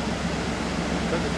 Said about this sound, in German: Das ist ein schöner Wasserfall.